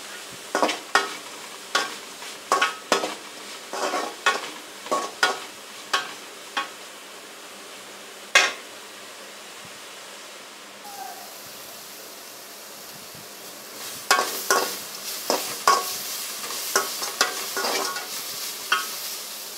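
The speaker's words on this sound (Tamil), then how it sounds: "போட்டு ஸ்லோ ஃப்ளேமில் வச்சு வதக்குங்க." Gooseberries sautéing in a pan over a slow flame for gooseberry rice, a faint steady sizzle punctuated by repeated rhythmic scraping stir strokes, sparse at first and busier later.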